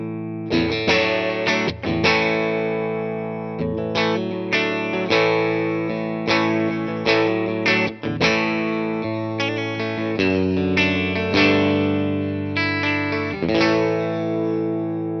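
Electric guitar chords through a Tone King Falcon Grande tube amp ring out with warm overdrive and a lingering reverb tail, played alone in a series of strummed phrases.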